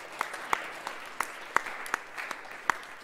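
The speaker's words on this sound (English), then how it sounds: "I think they deserve a round of applause." Sparse applause at a school end-of-term assembly: a handful of distinct, separate claps ring out irregularly against a quiet room, faint and brief.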